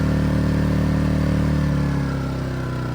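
A Konner&Sohnen KS 3000i S inverter generator runs steadily in eco mode with an even mechanical hum, close by, easing slightly quieter toward the end.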